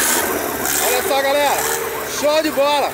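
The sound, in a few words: engine of an off-road buggy (gaiola cross)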